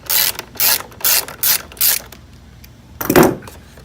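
A ratchet wrench backing out a 10 mm bolt on a 2018 Honda Grom motorcycle: five quick, loud, close clicking bursts in a steady rhythm, a pause, then a longer scraping turn.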